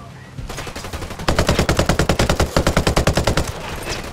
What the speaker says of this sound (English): Pretty big gunfight.